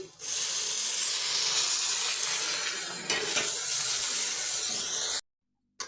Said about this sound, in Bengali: এবার এগুলো আমি একটু জল দিয়ে নিচ্ছি